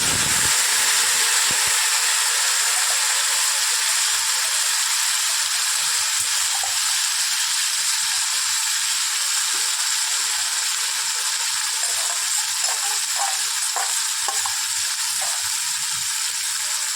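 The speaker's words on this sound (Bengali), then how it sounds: "তেলটা গরম হয়ে গেছে, এবার আমি মাছগুলোকে ভেজে নেব" Small fish frying in plenty of hot oil, a continuous bright hiss of sizzling with faint crackles near the end, steady and close.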